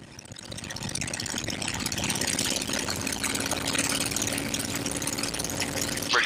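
A P-51 Mustang warbird's piston engine runs up to 2300 RPM, a loud, continuous, rough roar that builds over the first second and holds steady and close throughout.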